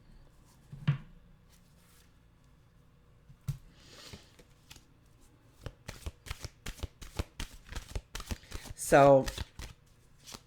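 A deck of mantra cards is shuffled up close in a quiet room, giving a run of rapid papery riffles and slaps in the second half after a few soft handling sounds, with a brief word spoken early.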